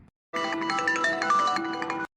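A phone ringtone plays a steady melodic tune for nearly two seconds, loud and close, with no talking over it.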